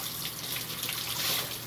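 Water pours into a container to rinse melon seeds, a soft, steady hissing splash that stays fairly quiet and even for under two seconds, with no talking.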